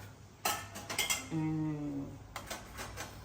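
A plate being taken out in a kitchen while making pulkas, with ringing clinks of dishes and cutlery, a sustained tonal ring from the plate, then a few more knocks, close and without talk.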